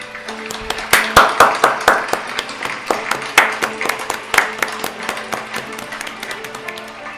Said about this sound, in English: Hit applause.